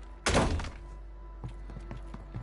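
Ammo box opened in the video game Warzone: a loud, short thudding clunk, then quieter scattered clicks and small knocks trailing after it.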